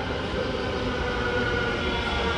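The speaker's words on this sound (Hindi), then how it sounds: "मेट्रो आ गई मेरे भाई" A metro train arriving at a station in Ahmedabad, heard as a continuous loud, broadband roar and rumble close by, with no voices.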